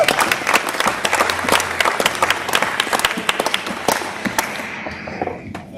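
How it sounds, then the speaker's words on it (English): Applause from the crowd at a New Zealand wheelchair rugby nationals awards ceremony, dense clapping that carries for about five seconds, then thins and fades out. "Big round of applause."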